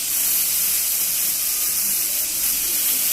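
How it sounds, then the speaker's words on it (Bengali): Papaya and potato pieces hit hot oil in a pan, giving a loud, steady, close hiss of frying that holds evenly throughout. "এখন পেঁপে আলুটা ছাড় দিব"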